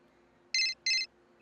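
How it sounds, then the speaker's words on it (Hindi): Two short bursts of a sampled telephone ring used in a Punjabi song production, evenly spaced and loud over a quiet low backing hum. "उत्थे आपां ये वाला सैंपल फिर से यूज़ करा है हमने टेलीफोन वाला"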